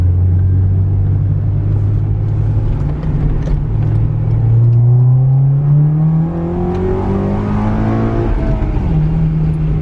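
A Honda Accord Euro CL9 engine revs hard on a dyno. The loud, close engine note climbs steadily in pitch, dips briefly, then holds, with no voices over it.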